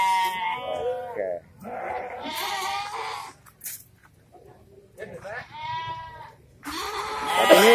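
Sheep and goats bleat at the Cilongok livestock market in Banyumas, loud, close, wavering calls coming in several separate bursts with short quiet gaps between them.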